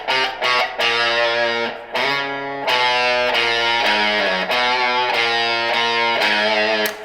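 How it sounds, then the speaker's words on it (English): Electric guitar through an early fuzz pedal, gain at three-quarters, tone at noon and level low, plays a riff: a buzzy, abrasive, sustained distorted tone in a repeating riff with short breaks, loud and close. "it's distortion, but it's very, very early distortion"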